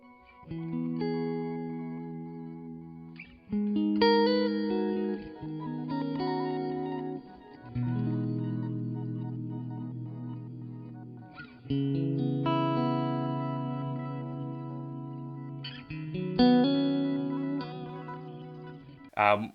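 Electric guitar chords from an amp modeler ring out with heavy effects and long sustain, played in several phrases separated by short pauses.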